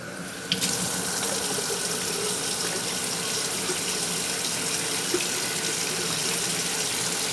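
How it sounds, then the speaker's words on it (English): Steady running water pours into a 1961 Jacobson edger, a continuous faucet-like splash and rush that holds at an even, fairly loud level throughout, with a brief knock near the start. "Let's go ahead and we'll put some water in here."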